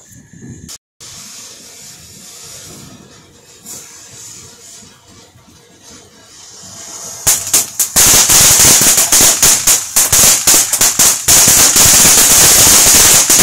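Consumer fireworks set off for a July 4 Independence Day celebration: a quiet stretch with a single early pop, then a loud, close, dense barrage of rapid crackling bangs from about the seventh second to the end.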